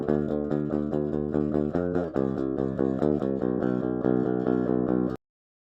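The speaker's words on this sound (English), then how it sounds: "I'll just show you the DI of the Jeff Loomis guitar" A clean, unamplified direct-input seven-string Jeff Loomis electric guitar with EMG 57-7H bridge pickup plays a fast, steady chugging riff up close, then stops abruptly.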